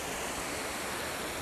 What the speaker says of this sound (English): you've found me down by this waterfall, and there's been a lot of rain